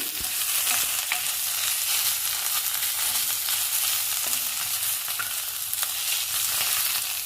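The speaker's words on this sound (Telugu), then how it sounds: "వామాకు తొందరగా మగ్గిపోతుందండి. ఇలా వేయించుకోవాలి." Ajwain (vamaku) leaves fry in a hot pan with a steady, dense sizzle and crackle, close and loud, broken by a few light stirring scrapes.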